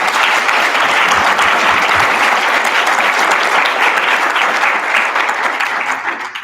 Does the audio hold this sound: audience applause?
yes